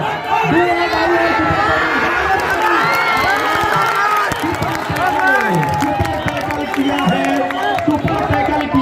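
Outdoor crowd at a kabaddi semi-final match clapping and cheering loudly, with children shouting and a commentator's amplified voice speaking over the noise throughout.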